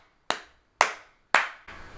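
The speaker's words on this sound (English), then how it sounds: "if I clap, that should be category 1" Three sharp, isolated hand claps spaced about half a second apart, close and dry, each decaying quickly in a quiet room, followed by a softer fourth hit at the end.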